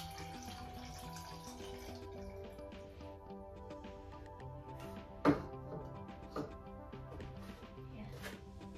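Distilled water is poured into the tank of a Conair 2-in-1 Turbo ExtremeSteam garment steamer, making a faint, steady trickle. One sharp click sounds midway, and a quiet tonal background plays underneath.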